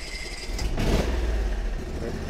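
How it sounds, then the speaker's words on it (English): An Argo 8x8 amphibious off-road vehicle's engine catches on full choke and settles into a steady, close idle, a low throbbing rumble with a brief louder burst at startup. "We haven't started it in a little while. We'll leave that idle for a sec."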